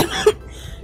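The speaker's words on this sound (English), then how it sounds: "Why am I coughing so much?" A single short, close cough bursts out once, then fades into quiet room tone.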